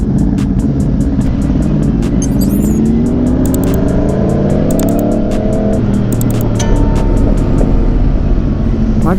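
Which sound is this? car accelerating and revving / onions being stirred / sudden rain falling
car accelerating and revving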